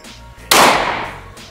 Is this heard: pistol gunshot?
yes